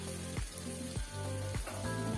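New potatoes fry with turmeric, chili, coriander powder and salt, a steady close sizzle running throughout, broken by a few brief scraping stirs at roughly regular intervals.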